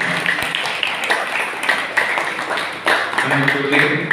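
At a Tamil church festival Mass for Saint Sebastian, an audience claps to welcome visitors, a dense patter of scattered hands at moderate distance, while a voice speaks over it.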